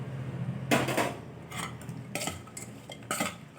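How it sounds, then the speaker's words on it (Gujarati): Cut green chillies tipped into a masala in a bowl, a few bursts of clinking spoon and metal scraping against the bowl, close and uneven, with quiet gaps between. "હવે આપણે જ્યાં મરચાં કાપીને રાખ્યા છે એ નાખી દેવાના છે"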